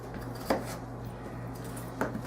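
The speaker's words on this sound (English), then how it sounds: "So let's get chopping." Knife chopping vegetables into bite-sized chunks for a home-cooked beef stew, with two distinct sharp board taps a second and a half apart over a low steady kitchen hum.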